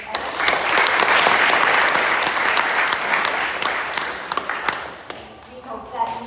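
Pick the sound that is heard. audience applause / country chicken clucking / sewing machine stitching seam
audience applause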